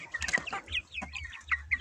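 Liven marbled hen, a two-month-old bird weighing about 1.5 kg, giving a run of close, repeated clucks and short squawks in uneven bursts, with a low rumble beneath.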